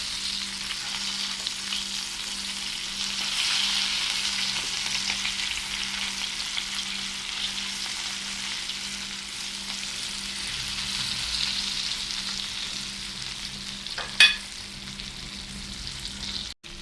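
Tinned mackerel shaped like fritters fries in a pan, giving a steady, moderate sizzle and crackle throughout, with a brief sharp clink of the pan near the end.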